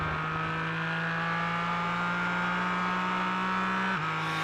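A GT4 race car screams down the Hangar Straight at Silverstone in iRacing, its engine holding one steady high drone that drops in pitch near the end as the driver shifts or brakes. No voices.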